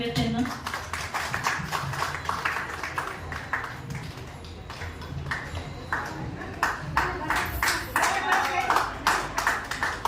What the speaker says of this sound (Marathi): जोरदार आपण ठेक्यात टाळ्या पण देऊयात त्यांना.